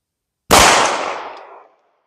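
A single sharp pistol shot from a Glock 19 with its factory barrel, fired at an outdoor range at 15 yards, cracks loud and close, then rings out in a long, fading decay.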